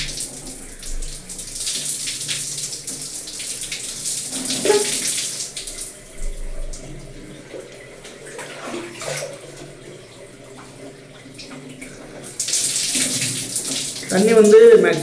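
Warm water pouring during a hair wash runs as a steady close splashing stream, swelling louder near the end, with a voice talking faintly underneath.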